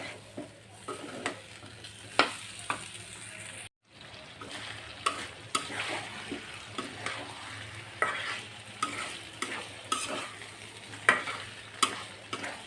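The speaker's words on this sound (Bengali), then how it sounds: "এখন আমি লবণ দিয়ে আবার নাড়াচাড়া করে কষিয়ে নিই" Chicken pieces being stir-fried with salt in a pan for a spiced chicken curry: a constant low sizzle with repeated scraping spoon strokes and clinks, briefly cut off once, with no voices.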